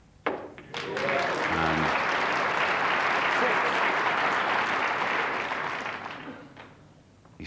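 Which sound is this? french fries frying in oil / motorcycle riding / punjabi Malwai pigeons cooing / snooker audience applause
snooker audience applause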